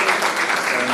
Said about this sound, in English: Let's give Mr. Msipa a big round of applause